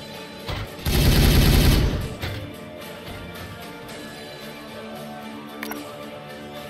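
Unit gunfire erupts in Warhammer 40K Regicide as a loud, dense one-second fusillade, then trails off into sporadic softer shots and mechanical clicks against ongoing battle noise.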